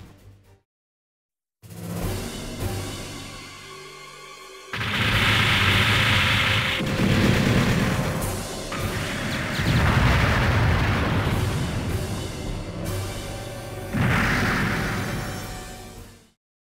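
Heavy booming Zaku cannon blasts in the game Gihren's Greed, several loud bursts in succession with rumbling low end and crackling debris between shots.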